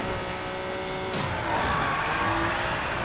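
An Acura NSX in the Need for Speed Payback racing game brakes and turns, giving a steady engine roar with a rising tire squeal partway through, loud and close with no talk.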